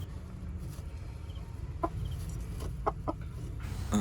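A mother hen with her chicks gives a few quiet, short clucks, spaced irregularly over a low background hum.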